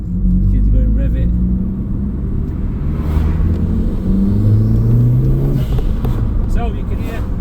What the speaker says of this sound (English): So you can hear the noise of the wastegate.